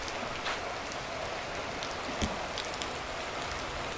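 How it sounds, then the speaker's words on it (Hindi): Heavy afternoon rain falls on a village in Uttarakhand, a dense, even hiss of drops on surfaces with occasional nearby splats, steady and close. "अभी ऐसी बारिश हो गई है यहाँ पर"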